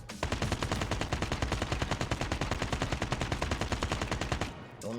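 Rapid automatic gunfire in the mobile shooter Call of Duty Mobile, a loud, even burst of rhythmic shots lasting several seconds before stopping abruptly, with no voices over it.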